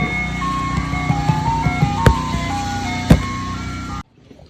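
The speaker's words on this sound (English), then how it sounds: "The ice cream man is out here." Outside, an ice cream truck plays its jingle as a tinny chime melody, fairly loud and steady, with a couple of sharp clicks and a low engine rumble before it cuts off abruptly.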